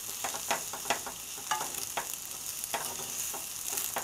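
Crab fried rice stir-fries over high heat, a constant crackling sizzle punctuated by quick rhythmic scrapes and taps of a spatula tossing the rice.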